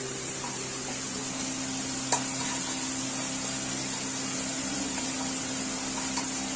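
A few spoonfuls of oil sizzle in a pan for a chicken omelette, a steady, fairly soft hiss with a low hum underneath and one faint tap, continuous and close.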